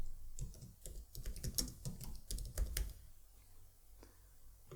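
Keys clatter in quick, irregular bursts on a computer keyboard, close and fairly quiet, tapering off into near silence toward the end.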